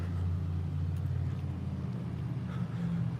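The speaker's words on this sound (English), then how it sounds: "it's a loud silver car right at the corner of the building" A loud car idles close by at a street corner beside a building, its steady low engine rumble filling the scene without pause.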